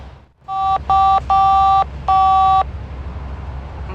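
Four short bursts of push-button phone tones in a steady dialing rhythm, each a clean paired beep from a telephone keypad in The Da Vinci Code video game, sounding loud and clear over a low hum with no talking.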